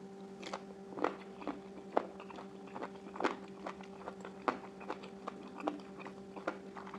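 Crunchy cuttlefish tentacles are chewed with spicy papaya salad and rice noodles: close, rhythmic crisp bites and crunches repeat steadily, with no talking.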